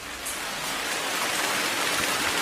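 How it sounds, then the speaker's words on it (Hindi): Steady rain pours down as an effect in a horror narration, a dense continuous hiss that stays loud and even throughout, with no voices. "ओहो, क्या ये बारिश भी?"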